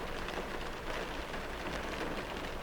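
Pouring rain falls steadily outside along a town road, a dense, even hiss of heavy rainfall with no gaps, fairly close and on its own without any voices.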